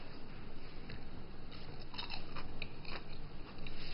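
Crisp fried ginger croquettes seasoned with salt and pepper are bitten and chewed, giving repeated soft crunches close up over steady background noise.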